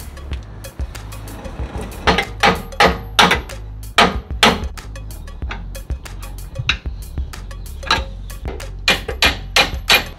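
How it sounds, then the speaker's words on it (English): Hammer blows on steel as a drag link is driven off the pitman arm of a Jeep TJ steering setup, sharp clanging strikes in irregular bursts and quick runs, close and loud. "we have tried different hammers, we have tried wedging a flathead in and hammering it that way"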